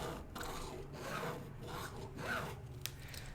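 A fabric marker scratches across fabric in several short, dry rasping strokes, soft and close, with no voices.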